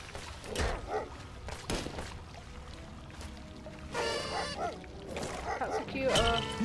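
Several sharp dog barks and yips from Lego Worlds, scattered over a busy mix of game sounds and talking.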